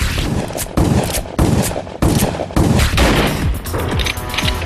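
Loud, close shotgun blasts boom out one after another at roughly even intervals, each followed by a rumbling tail, with no voices present.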